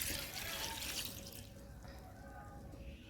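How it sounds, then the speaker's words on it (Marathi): Water poured into a pressure cooker with pigeon pea pods, a steady hissing splash that is loudest at first and eases after about a second, faint and close. "आणि याच्यामध्ये पाणी घालू आपण"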